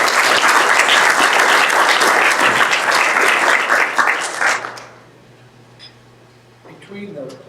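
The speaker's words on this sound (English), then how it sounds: "Give this group a round of applause." An audience applauds a student design group at an agricultural engineering session, dense clapping that is loud and sustained for several seconds, then dies away into quiet room tone with faint voices.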